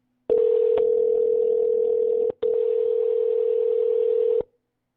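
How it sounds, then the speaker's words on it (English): Telephone connecting tone during a call transfer: two long, loud steady beeps, the first about two seconds, a brief gap, then a second of similar length, clean and alone. "Let me connect you to our technical support team right away."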